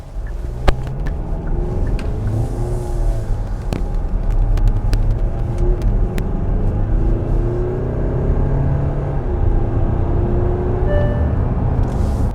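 2024 Kia Sorento Sport+ AWD diesel SUV cruising at high speed on the open road: steady cabin rumble of road and tire noise with a low engine drone, continuous and moderately loud.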